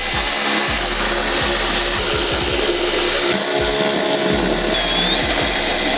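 A power tool drives the air box cover bolts on a Mercedes M156 engine, a loud continuous whirring buzz with a steady high whine, running without a break.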